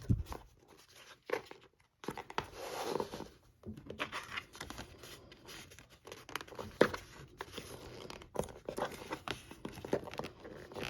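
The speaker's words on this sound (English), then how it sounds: "I just attach this around your box using a bit of tape." Tape is torn and paper packaging crinkled as it is wrapped around a box holding a butterfly embroidery kit, giving close, irregular rips, rustles and soft taps that stop and start throughout.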